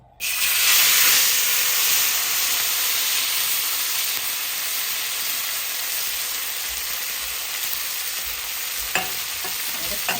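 Shrimp sear in smoking-hot oil in a wok for a Kung Pao dish, a loud steady sizzle and hiss that holds throughout, with a few sharp clinks of stirring near the end.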